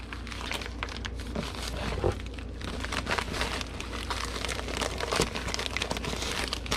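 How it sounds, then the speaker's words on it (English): Item being pushed into a padded envelope, busy crinkling and crackling of the plastic-bubble mailer with rustling bursts, close and continuous. "So let's see if we can fit it into this padded envelope."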